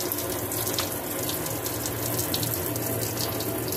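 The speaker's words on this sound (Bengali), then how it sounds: "তাই আমি আবার এরকম ঠান্ডা ট্যাপ ওয়াটার চালিয়ে দিলাম" Cold tap water pours in a steady, even rush into a basin, a continuous close hiss of splashing water with no break.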